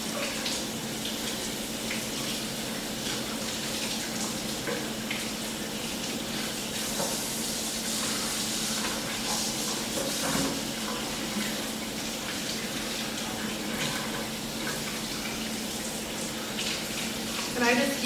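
Tap water runs steadily in a kitchen sink while frozen crab and other seafood are scrubbed, a continuous close splashing hiss with no break throughout.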